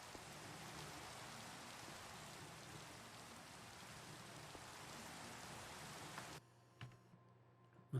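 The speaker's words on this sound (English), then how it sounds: "Man, it's raining crazy." Heavy rain in the video game Minecraft pours as a dense, steady hiss for about six seconds, then cuts off abruptly, leaving near silence with a few faint clicks.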